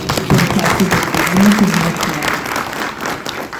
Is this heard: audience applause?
yes